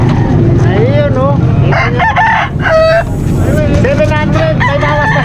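Several Sweater breed roosters crowing repeatedly at an animal market in Malasiqui, Pangasinan, loud and close, with clucking, market noise and people talking around them.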